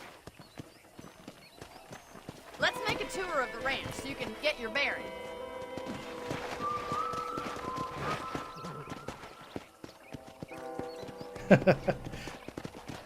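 Horse hooves clip-clopping in a steady rhythm while riding on a ranch in the video game Red Dead Redemption, heard alongside someone speaking and game music, with a brief whinny near the end.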